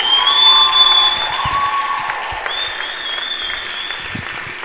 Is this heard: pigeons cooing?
no